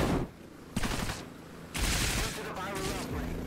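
Bursts of gunfire in the video game Cepheus Protocol, dense rattling volleys separated by brief lulls, moderately distant under a steady background.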